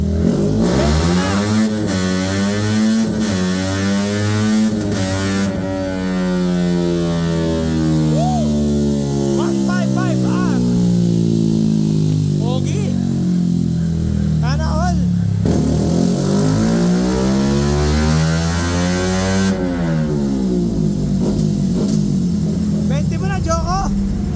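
A Yamaha Sniper V3 motorcycle engine revs hard again and again during an ECU remap. The pitch climbs and falls in long sweeps at close range, with brief speech over the engine.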